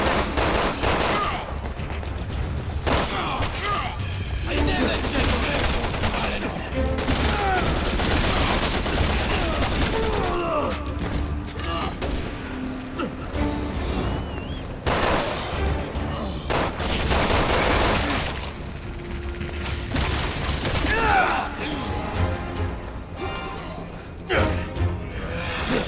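Dense gunfire from the video game Resident Evil 6, with rapid automatic bursts and heavy shots crashing loudly and almost without pause, mixed with impacts and game sounds.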